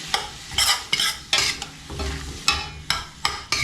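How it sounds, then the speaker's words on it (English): Mushrooms and leeks sautéing in oil in a pan, with a steady close sizzle broken by repeated scraping stirs at a quick, uneven rhythm, no voices. "Get that all sauteed."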